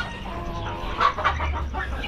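A hen on a Filipino farm clucks a few times during egg laying, soft and close over a low rumble of outdoor background noise.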